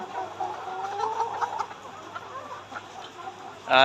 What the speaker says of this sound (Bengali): তো আমি এখানে এই এই খোপের মুরগিগুলো দেখাই